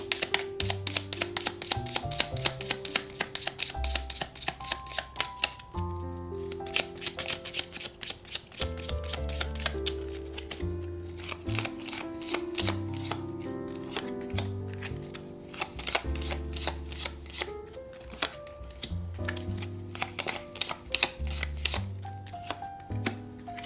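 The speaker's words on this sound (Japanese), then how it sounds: "あとはルノルマンカードからももらっていきましょう。" Lenormand fortune-telling cards are drawn and shuffled from a deck during a tarot reading: a busy run of quick, soft paper flicks and taps, close and fairly quiet, with short pauses between bursts.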